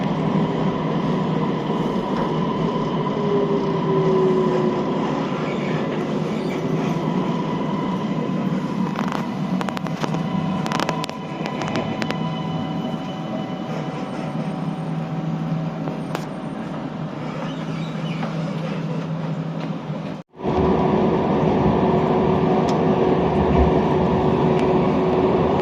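A Kuala Lumpur metro train hums and rumbles steadily from inside the car for the whole stretch, with a brief dropout near the end before the steady running noise returns.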